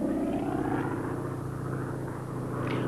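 A tiny Gee Bee racer airplane, nearly all engine, drones steadily with a thick, low propeller roar that holds loud and continuous throughout, swelling slightly near the end.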